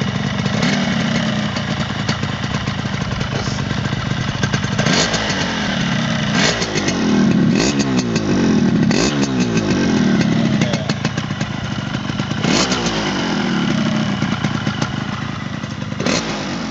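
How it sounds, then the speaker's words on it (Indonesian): A 2006 Yamaha RX King motorcycle engine runs steadily up close, with a rattly two-stroke buzz and a few short throttle blips rising and falling. "sekarang kita coba dengarkan mesinnya dulu"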